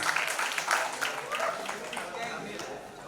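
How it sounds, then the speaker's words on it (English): An audience at an award ceremony gives a winner a sustained round of applause, dense and steady throughout and slowly thinning toward the end, with voices mixed in. "Some extra claps for him, please."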